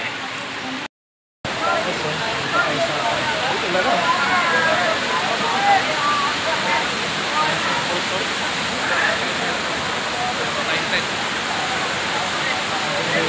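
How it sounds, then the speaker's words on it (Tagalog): Taytay Falls in Majayjay, Laguna pours in a steady, loud roar of rushing water that stays broad and constant, broken only by one brief dropout near the start. "Grabe yung falls, oh."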